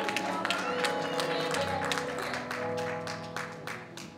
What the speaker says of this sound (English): Come on and clap your hands and tell the Lord thank you.